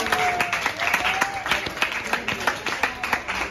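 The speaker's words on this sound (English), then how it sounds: "let's all give our assistants a quick round of applause" An audience claps in a round of applause for assistants at a youth ensemble event, a steady wash of hand claps with some sharper individual claps, fairly close and continuous throughout.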